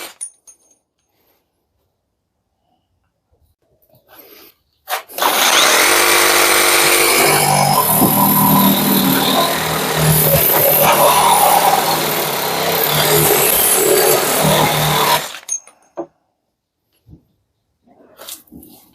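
A Parkside PSSAP 2028 A1 reciprocating saw cuts through metal on a workbench, its harsh buzzing roar running loud and steady for about ten seconds between short quiet gaps.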